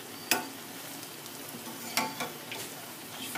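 Zeppole frying in hot oil with a steady soft sizzle, broken by a few sharp clicks and splashes as the dough balls are flipped over.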